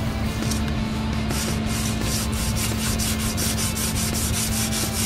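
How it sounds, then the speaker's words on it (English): Emery cloth sandpaper is rubbed against a damaged metal part to polish it smooth. It makes a continuous, loud, close scraping with quick, regular back-and-forth strokes over a steady low hum, and no voices are heard. "Got some emery cloth sandpaper, and I'm going to try to polish this thing smooth again."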